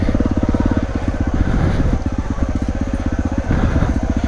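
A Honda CRF dirt bike rides a trail, its engine chugging in a rapid, pulsing rhythm with clear individual firing beats that rise and fall as the throttle changes, loud and close.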